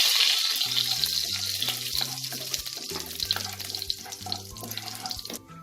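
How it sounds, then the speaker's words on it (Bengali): A bay leaf and caraway seeds are dropped into hot ghee for an egg biryani, crackling and sizzling steadily nearby while a faint repeating hum runs beneath and no one speaks. "এবার এই ঘিতে আমি একটা তেজপাতা আর হাফ টিস্পুনের মতো আমি সাজিরা ফোড়ন দেব।"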